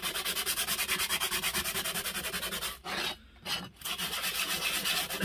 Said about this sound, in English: We don't want the sandpaper skating over, otherwise it's not going to cut